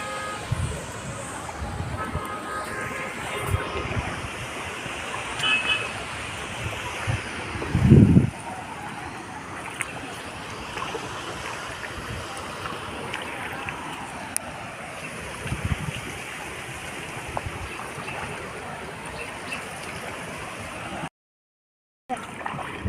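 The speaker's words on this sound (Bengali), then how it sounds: "ডাউকি নদী দিয়ে আমরা বোটে করে চলেছি" A boat travels along the Dawki river in Meghalaya near the Bangladesh border, with a continuous low engine drone and water wash running throughout, occasional thumps and brief voices in the background.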